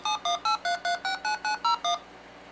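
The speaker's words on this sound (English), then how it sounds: "Get your DTMF decoders ready." A Game Boy homebrew program dials a local test number, producing ten crisp, evenly spaced DTMF touch-tone beeps in quick succession, loud and clear with nothing else over them.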